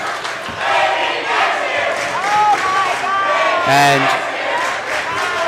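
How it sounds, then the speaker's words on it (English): A Canisteo basketball crowd in a gym chants in unison, a loud, rolling mass of voices that swells and dips over several seconds, with a sharp whistle-like cry near the end. "What is the Canisteo crowd chanting? They're chanting maybe next year."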